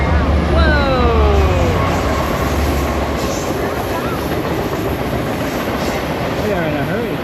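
A monorail at Hersheypark glides along with a continuous low rumble and wheel noise, a few rising squeals from the track, while voices chatter aboard.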